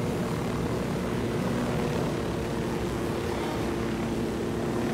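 Aircraft engine drone from a helicopter in the Ghost Recon Wildlands video game, a steady, loud, unbroken whir with a low rotor hum, heard on its own throughout with no voices.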